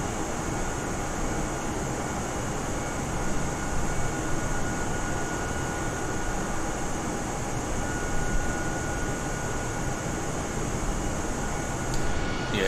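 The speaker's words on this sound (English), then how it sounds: "That plane is so loud and garish," A loud airplane in a flight simulator video game, a continuous steady engine roar with a sustained whine, unbroken throughout and with no talking.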